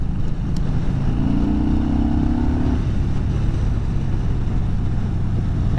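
A 2020 Yamaha Bolt R-Spec motorcycle runs with a loud, steady engine and exhaust drone, a rough low rumble under heavy wind noise, as if recorded while riding.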